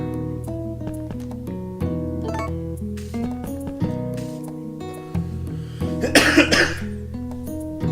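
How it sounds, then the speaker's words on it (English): A person coughs a few times, a short cluster of harsh bursts heard over steady background music from the farming game Harvest Moon: A Wonderful Life. "Meanwhile, I'll cough some more."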